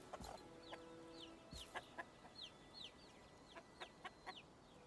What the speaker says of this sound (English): Oh, look at the chickens.